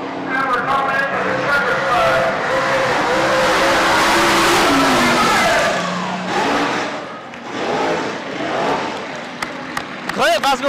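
Race cars circle a county fair track during a mock race at a grand re-opening, engines roaring loudly and sweeping past with revving pitch changes while an announcer talks over them.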